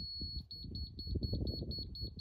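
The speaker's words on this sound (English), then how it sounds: "The steady beep. Steady beep is the height." A laser level detector gives a steady run of short, evenly spaced high beeps, close and fairly loud, over low rumbling background noise while a pad is being prepared.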